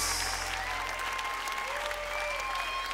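A church congregation claps steadily in sustained applause during a worship service, dense and continuous with no voices standing out.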